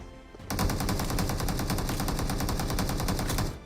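Rapid automatic gunfire from the mobile battle royale game BGMI, a dense, loud burst of evenly spaced shots lasting about three seconds, starting abruptly and cutting off sharply, with no talking.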